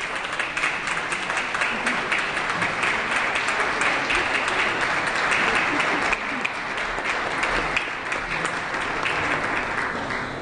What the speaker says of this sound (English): let's give a round of applause for the 2010 to 2011 Jesse Marvin Unruh Assembly Fellows